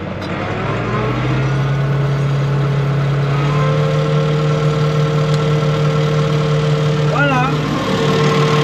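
A farm tractor engine runs with its power take-off engaged to drive a shredder on a farm. It makes a loud, steady, close drone whose pitch shifts slightly as the load changes.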